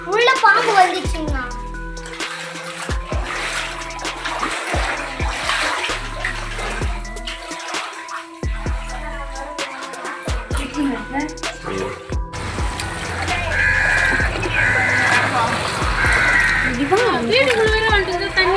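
Floodwater sloshes and splashes inside a flooded house in Mabuskhanpettai, Cholavaram, where more than a hundred homes went under water. The water churns steadily and close by, with people talking over it throughout.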